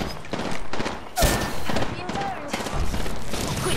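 Gunfire from a shooter video game rattles in fast, repeated bursts, loud and close, with a heavier thump partway through and a voice talking over the shooting.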